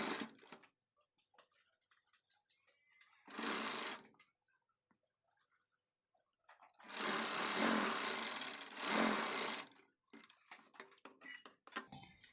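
A sewing machine stitches a hem on a Paithani saree blouse sleeve in short runs: a brief burst of rapid rattling, a pause, then a longer stretch of fast stitching, with soft ticks and handling clicks in between.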